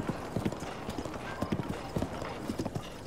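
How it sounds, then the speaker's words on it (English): Horse hooves in Zelda: Breath of the Wild clop on a road at a galloping pace in a quick steady rhythm, faint and under light game ambience, while a person talks over it. "the horse auto-corrects to the road in this game"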